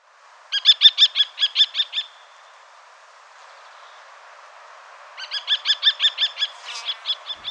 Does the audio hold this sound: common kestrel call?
yes